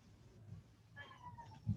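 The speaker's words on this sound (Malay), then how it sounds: "Saya pun ada kucing." A cat meows once, a short wavering call heard fairly close in a quiet room, with faint background noise and a low thump near the end.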